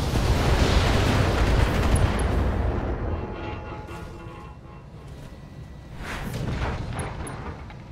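Mech weapons discharge and explosions boom in BattleTech, a loud rumbling blast at the start fading into a lower roar before a second swell of detonation.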